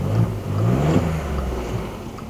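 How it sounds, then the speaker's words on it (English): A Volkswagen Up! GTi with a 1-litre engine gives a short, close rev that swells and then settles back to a steady idle, with no talk over it. "Give it a little rev?"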